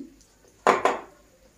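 A cover goes onto a bowl of marinated meat with two quick, close clattering knocks in rapid succession, then near silence.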